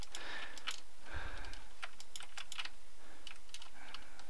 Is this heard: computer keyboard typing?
yes